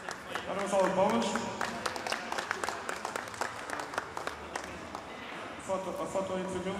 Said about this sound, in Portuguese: Agora uma salva de palmas.